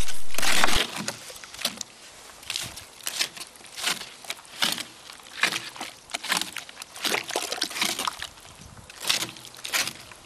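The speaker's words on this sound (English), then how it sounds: "I mix the clay with water first to get rid of all the lumps" Wet clay being mixed with water by hand for adobe bricks, a run of loud squelching, sloshing pulses in an uneven rhythm, close up with no talk.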